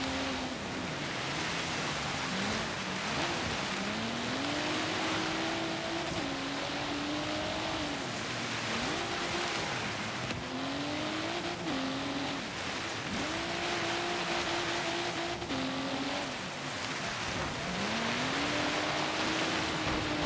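Race cars in a racing video game, a constant loud roar of engines with repeated rising and falling pitch sweeps as cars shift and pass, dense and continuous with no talk.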